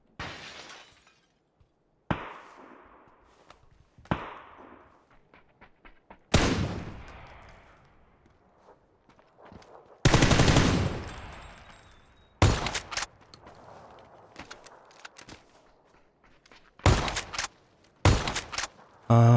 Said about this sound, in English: Shotguns, baby.